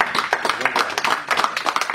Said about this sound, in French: je voudrais qu'on les applaudisse beaucoup